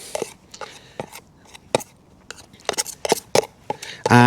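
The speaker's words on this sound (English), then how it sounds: "I'm just now going to mix in some chopped worm" Chopped worm being mixed by hand into a few handfuls of damp fishing groundbait, heard as a series of short, close wet squelching and patting pulses with brief pauses between them.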